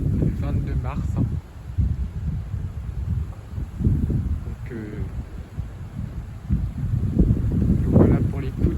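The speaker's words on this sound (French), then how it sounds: "voilà pour les coups de vent de printemps maintenant." Blustery spring wind gusts roar and buffet the microphone as a cold front moves through on a March night near trees just coming into leaf, a constant low rumble swelling and easing throughout with no voices.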